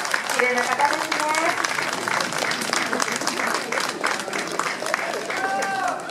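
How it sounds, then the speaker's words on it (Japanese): An audience at a Japanese street festival claps in a steady crowd applause under a voice announcing over it, moderately distant and continuous throughout. "どうぞ拍手でお迎えくださいませ。"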